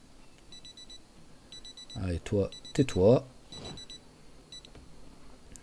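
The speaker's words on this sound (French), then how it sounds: "Et on a une alarme." A repeating electronic alarm sounds in the zombie survival game Project Zomboid, short bursts of high beeping pulses recurring steadily throughout, fairly quiet, while someone speaks briefly in the middle.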